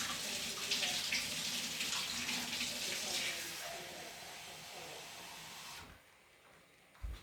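Cold water runs steadily from a tap into a container of melting snow, a broad continuous hiss that fades near the end before a brief knock.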